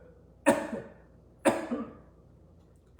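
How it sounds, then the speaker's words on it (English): Two deliberate coughs a second apart as part of a yoga therapy exercise, each a sharp close burst with a brief rough tail, then quiet. "learn how to do just do a little coughing"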